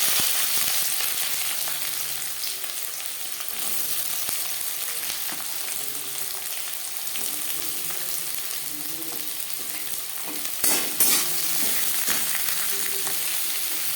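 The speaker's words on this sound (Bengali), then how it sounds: "গরম মশলা থেকে মিষ্টি একটা গন্ধ ছাড়তে শুরু করলে দিয়ে দেবো পেঁয়াজ কুচি" Chopped onions fry with crushed whole garam masala and bay leaf in hot oil in a pan, a steady close sizzle and crackle running throughout with occasional stirring scrapes.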